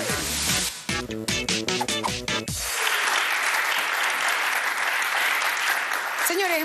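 Loud music with a thumping bass cuts off, and an audience at a show bursts into sustained applause, a dense wash of clapping that carries on steadily to the end.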